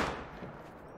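A rifle shot is fired at ibex during a hunt in Spain in the video game Hunter: Call of the Wild, its loud blast ringing out at once and then rolling away in a long, fading echo.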